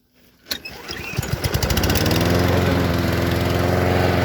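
An Einhell petrol lawn mower pulls into life with a sharp start, sputters through a few uneven firing bursts, then settles into a loud, steady engine drone close by.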